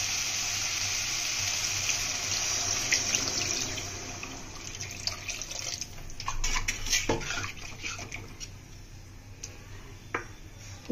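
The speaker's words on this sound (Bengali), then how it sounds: "এবার জলটা দিয়ে দেবো" Water poured into fried egg curry masala in a cooking pan, a steady splashing pour for a few seconds that then settles into softer bubbling and scattered clinks, with no talking.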